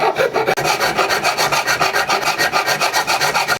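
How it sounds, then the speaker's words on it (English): A hand file scrapes a flat spot onto the shoulder of a metal pulley in fast, steady back-and-forth strokes, loud and close, with no talk. "I'll just file a flat spot for those things to grab."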